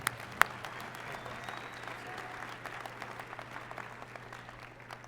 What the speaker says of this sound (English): Let's give Nicholas a big Tarleton warm round of applause.